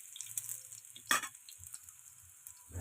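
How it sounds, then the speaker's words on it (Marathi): Bitter gourd (karela) slices frying in a pan, a faint steady sizzle with light crackles and one brief stirring scrape, soft and close with no talk. "फ्राय करून घेणार आहे कारले"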